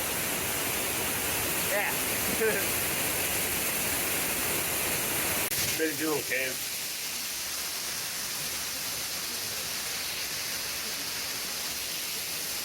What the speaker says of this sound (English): So it's found a pretty cool waterfall.